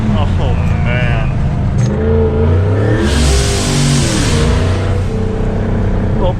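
A Plymouth Volare engine revs up loudly and close, rising to a strained peak midway before easing back down, with a rough mechanical growl throughout and talk heard over it.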